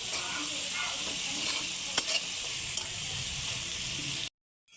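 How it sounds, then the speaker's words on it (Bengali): Chopped green chillies go into a frying curry of tomato for a spicy parshe fish dish, a steady close sizzle with soft stirring scrapes and a small clink, then it cuts to silence. "এবার দুটো কাঁচা লঙ্কা কুচি দিয়ে দেব।"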